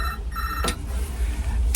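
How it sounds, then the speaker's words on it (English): A public phone box telephone rings in short electronic bursts over steady background hiss, heard through the receiver held up close, with a brief click partway through. "Oh, it's ringing, you hear that?"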